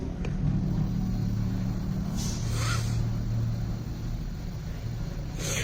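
An 800-watt electric scooter is ridden in third mode on the road, producing a steady, close rumble of motion and wind noise with no talk.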